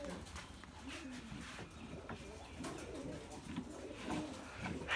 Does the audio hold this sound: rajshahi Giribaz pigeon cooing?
yes